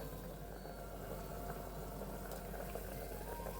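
Homemade wheat flour pasta boils in a pot, a steady low bubbling and simmer heard close and fairly quiet, with no talking.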